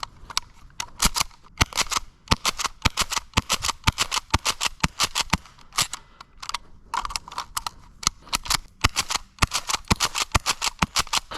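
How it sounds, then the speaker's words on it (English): A cheap airsoft shotgun fires rapidly in three-round burst mode, with sharp snapping shots in quick clusters repeating steadily and close up, with no talking. "switch this guy back to 3-round burst and see how fast we could shoot this guy"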